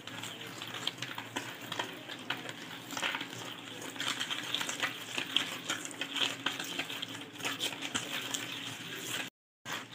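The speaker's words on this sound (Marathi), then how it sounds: "मस्त फेटून घेतलेली साखर आणि तेल" Sugar and oil being whisked for an eggless custard cake batter, a steady close scraping and swishing of a whisk in a bowl, with a brief cut near the end.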